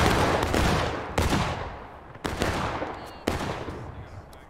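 Musket volleys crack out in the War of Rights Civil War video game, four heavy broadband blasts about a second apart, each trailing a long rumbling decay, loud and close with faint voices beneath.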